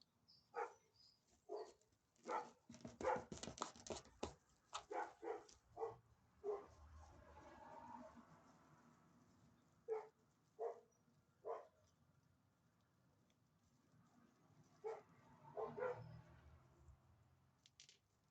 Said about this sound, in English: My dog's barking at the people driving by.